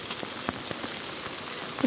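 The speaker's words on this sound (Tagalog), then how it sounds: "The next morning, tuloy pa rin ang pag-ulan" Rain patters steadily at a riverside campsite during a typhoon, faint and soft, with scattered individual drops tapping on nearby surfaces throughout.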